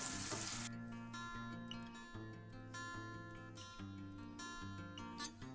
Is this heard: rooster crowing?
no